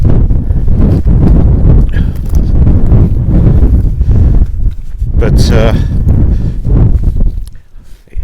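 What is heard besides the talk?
strong wind on exposed moor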